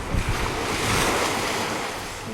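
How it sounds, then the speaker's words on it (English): Ocean surf washing onto an African shore: a steady, loud roar of breaking water with wind noise, rising slightly mid-way and sustained throughout with no talk. "Oh, Nelly, the water nearly came on them. Imagine the wave"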